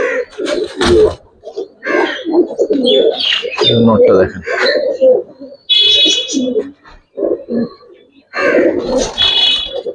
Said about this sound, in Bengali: এর নটটাও হাতে বসে ডাকা কবুতর